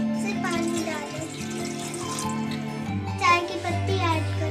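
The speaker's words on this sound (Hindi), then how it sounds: "सिर्फ पानी डालें," Water is poured into a cooking pot for masala chai, making a continuous splashing stream under steady tonal background sound and voices.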